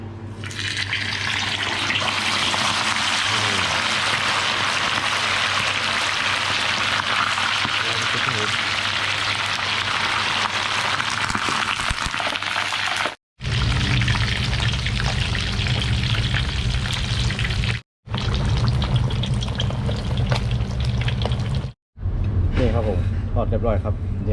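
Sauce pouring over freshly fried fish in a home kitchen, a steady loud hissing, gushing rush that runs on with a few abrupt breaks, while someone talks.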